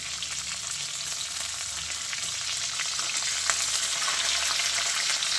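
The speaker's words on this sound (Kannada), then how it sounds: "ಏನು ಚಟಪಟ ಅಂತ ಹೇಳಪ್ಪ, ಕೈಯೆಲ್ಲ ಏರ್ಬಿಡ್ತು ಫ್ರೆಂಡ್ಸ್." Spices for ridge gourd chutney crackle and splutter in hot tempering oil, a dense, continuous close sizzle that grows slightly louder toward the end, with no voices.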